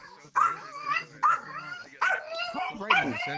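A dog's barks come from a VRChat avatar in a game meetup, four repeated yelping barks with a whimpering tone, fairly close and clear.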